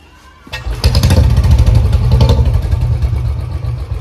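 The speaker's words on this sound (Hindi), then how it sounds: "सबसे पहले अपने बुलेट को स्टार्ट कर लिया" A Royal Enfield Bullet motorcycle engine fires up after a moment of quiet, then settles into a loud, close, thumping idle that continues to the end.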